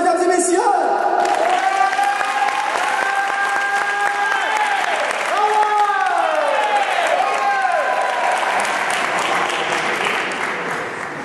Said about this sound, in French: Un tonnerre d'applaudissements, mesdames et messieurs.